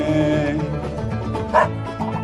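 A dog barks over loud country and western music, its voice mixed into the steady band sound and standing out in a brief burst partway through.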